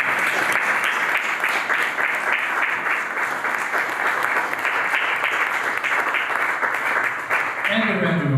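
Sustained audience applause closing a humanities debate event, a full, even roar of clapping hands that carries on for several seconds, with a voice starting to speak near the end.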